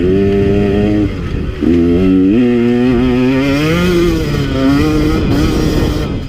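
A KTM 150 XC W two-stroke dirt bike engine revs loud and close, its pitch rising and falling through several throttle blips and gear changes with a buzzy, ringing tone.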